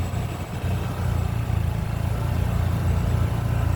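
A vintage Ferguson TL35 tractor engine idles at a tractor and engine show in Portland, a steady low rumble running continuously and fairly close throughout.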